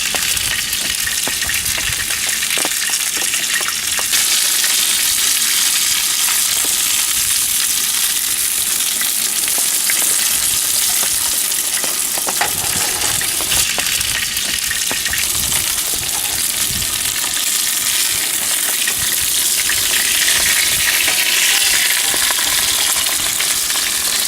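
Taco meat frying in hot oil in a pan at a campsite, a loud, dense, continuous sizzle and crackle running unbroken throughout, no voices.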